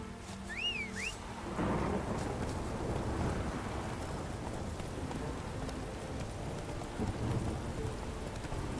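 Thunder rolls and heavy rain pours down steadily through a storm in The Witcher 3, following a brief tonal sound effect at the start.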